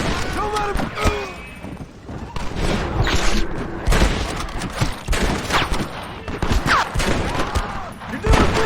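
Rapid gunfire in a Red Dead Redemption shootout, repeated sharp shots in uneven bursts with booming reports, mixed with shouted voices over the action.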